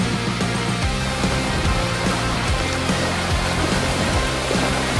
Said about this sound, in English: at least you got to enjoy that little waterfall